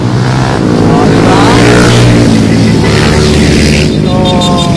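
Motorcycles ride past through a banked curve on a mountain loop road, their engines droning loudly and continuously with rising revs, close to the microphone and set against steady wind and traffic noise.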